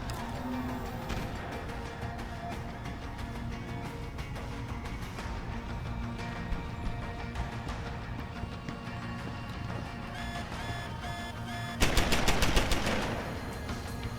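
An automated turret machine gun in Deus Ex: Human Revolution fires in steady rapid bursts under a dense layer of game music and effects, with a sharper, louder burst near the end.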